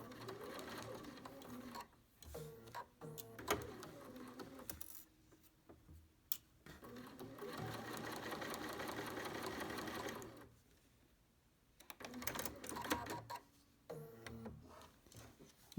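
A Bernina sewing machine fitted with a #88 bias binder attachment stitches across the pleats of a fabric face mask, running in rapid buzzing bursts separated by short pauses, fairly quiet and close.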